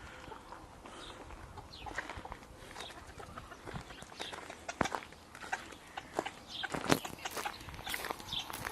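Chickens roam a large farm yard, with scattered soft clucks, scratching and footsteps rising and falling at moderate distance in an open outdoor setting.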